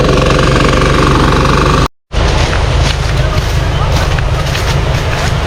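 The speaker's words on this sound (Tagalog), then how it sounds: "Gasolina ang aming gagamitin, yung ating makina na Honda." A Honda gasoline engine running a rice thresher during harvest roars loud and steady up close, briefly cutting out for a moment before the rough, knocking drone resumes.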